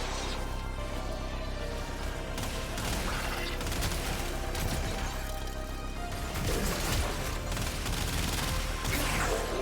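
Gunfire from a single-target gun in Warframe, a dense continuous stream of loud shots with crashes and booms layered throughout, no talking.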